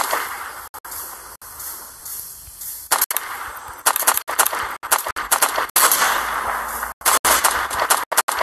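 A gun in the Roblox Zombie Tycoon game fires a string of sharp, irregular shots, some in quick clusters and others spaced apart, loud against a noisy game background.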